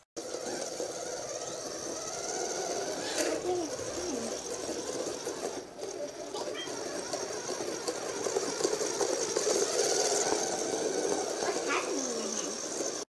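A Sphero BB-8 app-enabled toy droid whirs with a steady, high electric motor buzz close by, its pitch wavering slightly as it spins in place, with occasional faint clicks.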